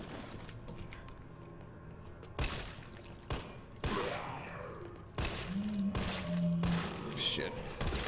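Bursts of gunfire in Resident Evil 3 Remake, sharp shots clustered in short volleys between quieter stretches, with low game ambience and a rising tonal effect underneath.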